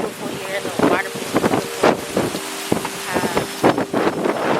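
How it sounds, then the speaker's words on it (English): Strong wind buffets the microphone on the coast of Mykonos, Greece, loud gusty rumbles in uneven bursts near the water while a person speaks over it. "It is quite windy, as you probably can hear."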